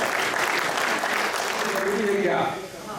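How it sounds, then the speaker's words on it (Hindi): Audience clapping at a Panchayat secretary farewell ceremony at a training institute in Ranchi, a thick steady wash of applause that tapers near the end, with faint voices mixed in. "तो सर के लिए एक बार जो ताली बजाइए आप लोग।"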